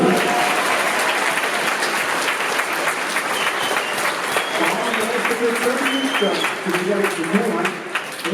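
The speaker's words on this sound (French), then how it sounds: "C'est beau, applaudissements." An audience at a Polymanga convention panel applauds steadily and fairly loudly, a continuous rush of clapping with some talk and shouted voices mixed in toward the end.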